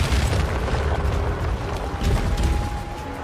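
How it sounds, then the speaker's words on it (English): Shocking turrets firing lightning projectiles in a Path of Exile 2 trial room: dense, continuous crackling bursts and booming electric zaps layered over a rumbling game soundscape, loud and steady throughout with no speech. "dealing with the lightning projectiles from the shocking turrets"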